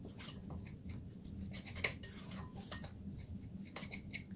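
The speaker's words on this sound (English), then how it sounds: "I'm using a knife here just to gradually mix it all in." A knife scrapes and clinks against a bowl while working scone dough of flour and wet ingredients, soft irregular metallic taps and scratches close by and fairly quiet, with no talking.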